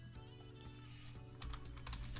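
Quiet, quick clicking of keys typed on a computer keyboard, a short burst of keystrokes that gets a bit denser toward the end, with no voices.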